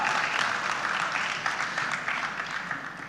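An audience applauds during an interview with a veteran film actress, a steady wash of many hands clapping at a constant level for about three seconds with no voices.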